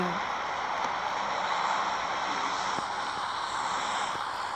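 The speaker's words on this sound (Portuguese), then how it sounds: "Ah, não, é avião." Airplane engine drone from the PUBG video game, a steady broadband roar passing overhead at moderate loudness throughout, with no talk.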